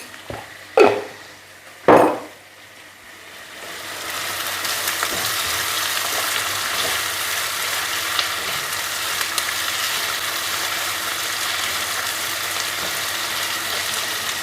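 Two sharp metal clanks of a pan, then salted onions frying in a pan build into a steady, fairly loud sizzle that runs on alone with a few small knocks.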